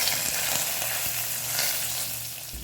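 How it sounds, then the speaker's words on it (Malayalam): Curry leaves sizzle in hot oil for dal palak, a dense, continuous crackling fry heard close up and alone, without pause. "കൂടെ തന്നെ കുറച്ച് കറിവേപ്പിലയും കൂടെ ചേർത്ത് കൊടുക്കുന്നുണ്ട്"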